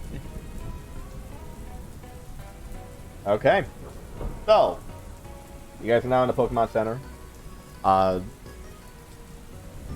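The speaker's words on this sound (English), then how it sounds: "You hear the nice gentle rain outside." Gentle, steady rain falls outside a Pokémon Center in a tabletop role-playing game, a soft constant patter under several intermittent bursts of speech.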